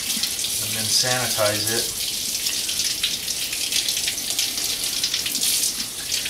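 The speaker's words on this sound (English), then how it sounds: "What I'm going to do now is my thermometer. I'll wash it." A kitchen tap runs steadily into a sink to rinse a thermometer during home brewing. A person speaks briefly near the start while the water keeps gushing throughout.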